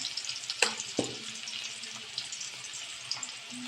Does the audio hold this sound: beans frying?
yes